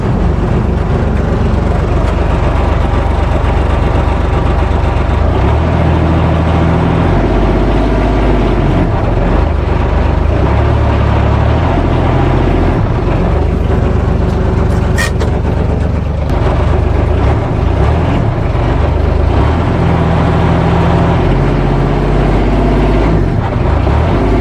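A four-wheel drive vehicle with its differential locked strains to pull a Cat D4 crawler dozer, its engine holding a loud, steady, close drone that barely changes over the whole stretch, with no talking.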